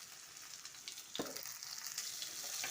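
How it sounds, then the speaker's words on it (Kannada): Onion and green chili fry in hot oil with mustard seeds, producing a loud, dense sizzle and crackle close up, with a sharp stirring scrape midway and no talk. "ಹಾಕಿ ಸ್ವಲ್ಪ ಫ್ರೈ ಮಾಡ್ಕೊಳ್ಳೋಣ."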